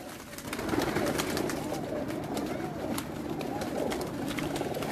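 Rooftop pigeons coo softly and repeatedly amid a steady wash of outdoor noise, fairly distant and continuous throughout.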